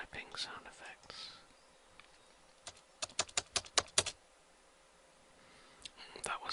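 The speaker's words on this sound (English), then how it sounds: "Technology typing sound effects." A played-back technology keyboard typing effect gives a sharp, harsh run of rapid key clicks in the middle, with soft whispering before and after.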